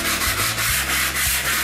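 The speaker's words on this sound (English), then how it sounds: "I just had to sand it down lightly in order to smooth out the edges" Half-inch plywood backboard being sanded lightly by hand, a loud, close, rhythmic rasping of strokes back and forth across the wood, with no voices.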